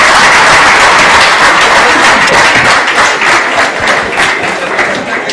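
Loud, dense applause from a conference audience at the ICTACT Bridge event in Madurai, 2013, sustained throughout with steady clapping and no speech over it.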